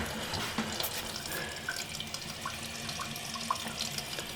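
Water rushes steadily into a newly installed toilet tank during a foreclosure remodel, a continuous hissing fill with faint drips and gurgles, close by and uninterrupted, with no one speaking.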